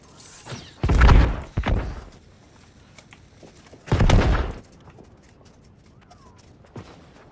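Two loud, broad bursts of gunfire from the video game New World, each lasting about half a second, with a few softer thuds and shots between them.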